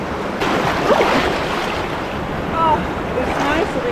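Waves wash over a rocky beach in shallow water in La Union, Philippines, a steady close surf roar with swelling surges, mixed with wind buffeting the microphone.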